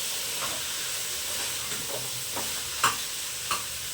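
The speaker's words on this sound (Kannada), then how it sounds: "ಇವಾಗ ಇದನ್ನ ಚೆನ್ನಾಗಿ ಮಿಕ್ಸ್ ಮಾಡ್ಕೊಳ್ತೀನಿ." Eggplant and potato curry being stirred in a pan, with scattered light scrapes and taps of the spoon over a soft, steady sizzle.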